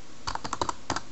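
A short burst of several crisp computer keyboard key presses, close and clear, clustered in quick succession with a brief pause before two final taps.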